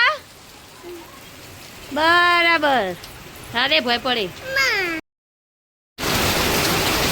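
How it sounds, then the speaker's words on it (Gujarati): Heavy rain falls outside a house as a steady broad hiss beneath people talking, then continues alone as a loud, dense wash after a short break. "આવો વરસાદ મસ્ત વરસાદ"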